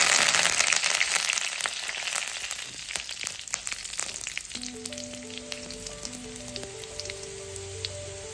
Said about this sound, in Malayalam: ഇനി കുറച്ച് കറിവേപ്പില ഇട്ട്